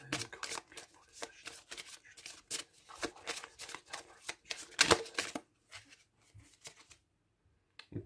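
Tarot cards being shuffled and drawn, close and soft, in quick papery riffles and slaps that come in bursts, then thin out into a few isolated card sounds.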